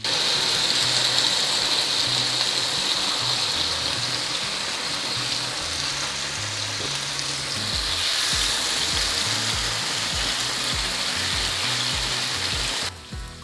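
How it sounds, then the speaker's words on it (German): Marinated chicken pieces sizzle and fry in hot sunflower oil in a pan, a steady dense crackling hiss that continues throughout, close and fairly loud with no talking. "wenn das Öl erhitzt ist, dann gebe ich als erstes die Fleischstücke rein"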